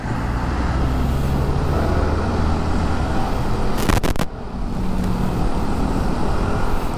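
Heavy road traffic in Metro Manila near Katipunan and Eastwood, a loud continuous roar of engines and tires, with low motor rumble and a brief sharp burst of noise around four seconds.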